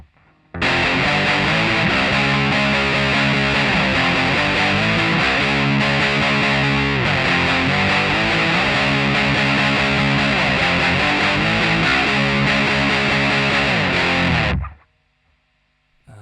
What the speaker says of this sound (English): the outro riff sounds like this.